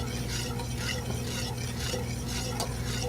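Cayenne gets stirred into a pot of shrimp brine, a continuous swishing, scraping stir over a low steady hum, fairly close, with no talking.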